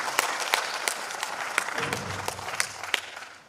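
Conference audience applauding keynote speakers at a mechanical and industrial engineering conference: steady scattered clapping from a crowd, moderately loud and continuous, with a few sharper individual claps standing out and no talk over it.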